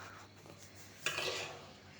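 A metal pot for bhuna khichuri is set down on the stove with a short scraping clatter, faint and close, followed by a soft fading rustle in a quiet kitchen.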